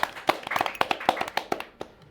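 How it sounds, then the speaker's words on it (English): People clap for the players at a livestream celebration, a small group's uneven, sparse applause of sharp, close hand claps that thins out toward the end. "So we give a little clap to the players and everyone else especially."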